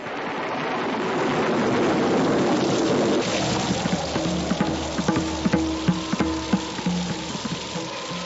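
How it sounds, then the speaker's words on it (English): Heavy pouring rain with hail and strong winds, a dense hissing downpour that swells early, then continues with scattered sharp pattering hits of ice, loud and unbroken, with no talk. "was pouring down rain that was accompanied by heavy pieces of ice and strong winds"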